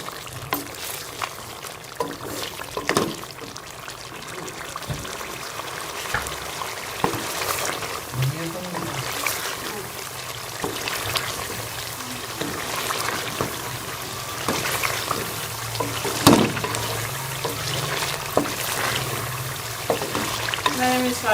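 Potatoes fry with masala spices in ghee in a pan for Kashmiri dum aloo, a steady soft sizzle broken by scraping stirs and clinks, while a voice talks over it now and then.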